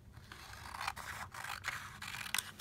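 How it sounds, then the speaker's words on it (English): Scissors cut a square out of a sheet of paper for a craft bookmark, making close, continuous crisp scraping snips broken by a few short pauses, with no speech. "So the first thing I've done is brought the corner across so that I can cut a square out"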